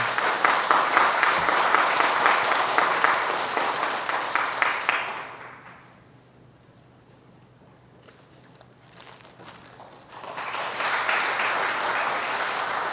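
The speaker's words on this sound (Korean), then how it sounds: "성도 여러분께서는 박수로 환영해 주시기를 바랍니다" A church congregation applauds to welcome new members just received into a Methodist church in Korea. The clapping is loud and sustained, fades into near quiet midway, then swells back to full applause.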